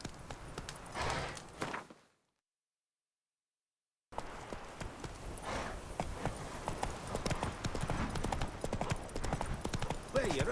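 The horse Roach gallops in the video game The Witcher 3, a fast, steady drumming of hooves broken by a two-second silence, then resuming louder, with speech at times.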